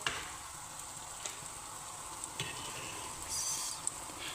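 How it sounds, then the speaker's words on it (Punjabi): Chicken boils in a pot of water with tomatoes for Omani mekhfous, the foam rising on top, a soft steady bubbling and hiss with a few light clinks, no talking. "ਜਦੋਂ ਚਿਕਨ ਚੰਗੀ ਤਰ੍ਹਾਂ ਉੱਬਲ ਗਿਆ ਨਾ ਇਹ ਝੱਗ ਜੀ ਚੰਗੀ ਤਰ੍ਹਾਂ ਆ ਜਾਂਦੀ"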